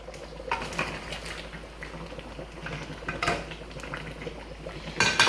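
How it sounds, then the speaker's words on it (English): Fish tipped all at once into a metal cooking pot for an African stew, giving clattering metallic knocks and scrapes over a steady kitchen background, with a louder splashy clatter near the end. "I don't do it one at a time, so I just dump it into my cooking pot"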